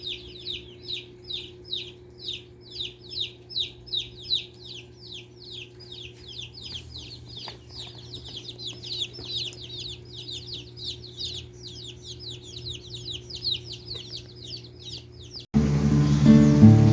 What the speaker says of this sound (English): Our baby chickens have arrived.